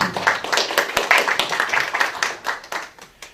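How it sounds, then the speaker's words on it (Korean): A seminar audience claps to welcome a panelist at a lifelong-education policy discussion, a brisk, uneven patter of many hands lasting a few seconds. "박수로 좀 인사해 주시면 감사하겠습니다"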